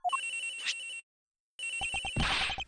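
A mobile phone rings in the video game Ace Attorney Investigations: a bright electronic ringtone melody plays, stops for about half a second, then resumes with sharp rhythmic pulses and a burst of noisy chiming. No voices are heard.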